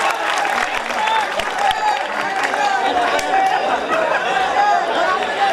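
Applause at an Urdu mushaira poetry gathering in Gogawa, a steady wash of clapping from a large audience mixed with crowd chatter, continuous and moderately loud throughout.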